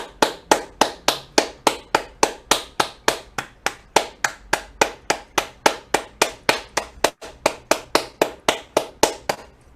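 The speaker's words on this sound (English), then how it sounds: "So let's get a round of applause" Applause for contestants at an ideathon demo day comes through as a single, crisp, evenly spaced clap repeating about three times a second for ten seconds, loud and close, with a brief dropout near the seven-second mark.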